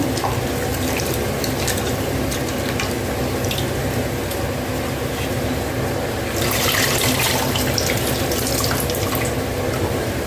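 Tamarind water pours and splashes steadily into a pot, growing louder and fuller partway through, with no one speaking.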